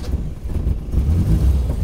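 A heavily modified Morris Traveller classic car's engine fires up and runs with a steady low rumble, rising slightly as it revs, heard close by with no talking.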